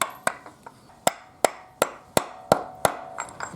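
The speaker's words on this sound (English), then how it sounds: "So you guys can use that to hammer it in there." Sharp metallic bangs struck in a steady series, about eight solid hits with short ringing decay, close by and with no talking, hammering an engine seal into a Honda Prelude with a socket.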